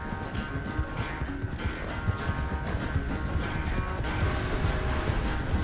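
A racehorse gallops in Red Dead Redemption 2, its hooves pounding in a quick, continuous rhythm over game ambience. The drumming stays close and fairly loud and builds slightly toward the end.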